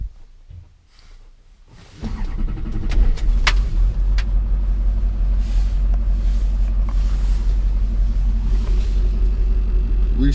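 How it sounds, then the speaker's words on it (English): A car engine starts after a quiet stretch, cranking into a loud, close rumble that settles into a steady, deep idle for the rest of the clip. "Restart the vehicle."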